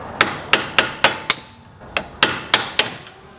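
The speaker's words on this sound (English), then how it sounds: "Get a just a flat screwdriver like this. Come right down here on the bottom of that leveling rod and just tap it off." A flat screwdriver taps against a car's front-end leveling rod, giving about ten sharp metallic strikes in a steady rhythm with a short pause midway, close and clear with no talk.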